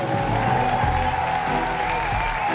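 A TV show studio audience applauds and cheers for the guests, a dense wash of clapping with a steady tonal hum and low rumble underneath, loud and continuous without clear speech.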